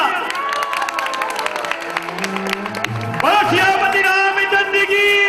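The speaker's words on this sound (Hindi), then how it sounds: "जोरदार तालियां।" An audience at a Shri Ram Katha religious gathering claps and cheers, loud and sustained, mixed with crowd noise and tonal singing or voices throughout.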